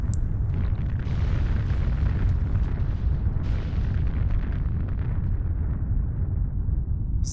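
Continuous heavy explosions from carpet bombing in the factory-building game Factorio, a dense, unbroken low rumble of overlapping booms and bursts that stays loud throughout with no talking.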